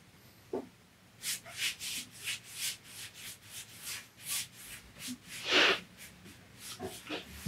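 A paintbrush works water-based decorative paint onto a door stile in repeated soft, rhythmic scrubbing strokes, close and quiet, with no talk.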